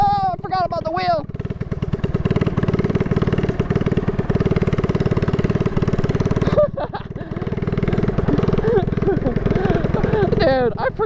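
A Honda dirt bike converted into a three-wheeler runs at full throttle with a loud, steady buzzing drone. It dips briefly partway through, then surges again, while voices shout near the start and end.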